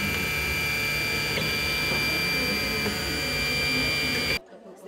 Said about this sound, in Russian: Ученики старших классов под руководством педагога создают деталь, которая тут же изготавливается с помощью 3D-принтера.